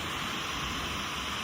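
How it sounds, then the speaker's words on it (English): Bridal Veil Falls in Spearfish Canyon, South Dakota, pours as a steady, even rush of falling water, continuous and moderately loud with no voices. "Pretty neat waterfall."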